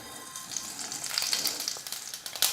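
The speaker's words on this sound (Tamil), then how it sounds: "எண்ணெய் நல்லா காஞ்சிடுச்சு. இப்போ கடுகு சேர்த்துக்கிறேன்." Mustard seeds spluttering in hot oil in a kadai while making rasam: a quiet crackling sizzle with scattered sharp pops, close up and without talk.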